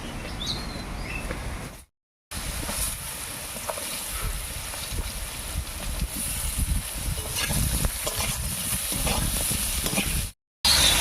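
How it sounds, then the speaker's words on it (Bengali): Steady crackling sizzle of ridge gourd frying in hot oil left from frying fish, continuous and close, with a couple of brief silent gaps. "মাছ ভাজার এই তেলের মধ্যে ঝিঙেটাও হালকা করে ভেজে নিই"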